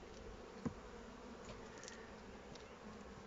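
Honeybees hum faintly and steadily around an opened hive during an early spring colony inspection after winter, a soft continuous insect drone with one brief knock near the start.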